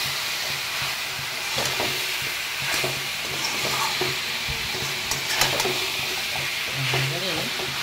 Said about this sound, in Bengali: খালি এবারে কষা হবে।